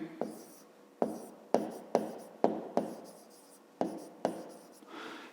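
Pen writing numbers on paper during a fifth-grade maths exercise: a series of short, close scratchy strokes, about nine distinct bursts in an irregular rhythm, each fading quickly, with no talking.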